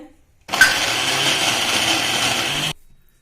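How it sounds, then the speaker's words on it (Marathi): A kitchen mixer grinds a fenugreek and spinach gravy paste in one loud, steady whirring burst of about two seconds, starting and stopping abruptly against near silence. "आता हे मिक्सरमध्ये आपण बारीक वाटून घेऊया"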